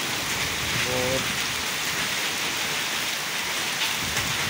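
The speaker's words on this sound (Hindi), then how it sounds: "ये देखें बहुत तेज़ बारिश" Heavy rain pours steadily at night in Murree, a dense continuous hiss on surfaces; a voice speaks briefly under it.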